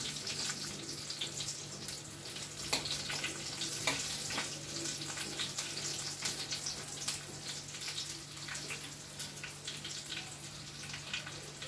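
Onions fry in hot tempering oil with a steady, soft hiss and crackle, faint and continuous with no voices over it.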